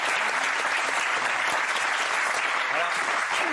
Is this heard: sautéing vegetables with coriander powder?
no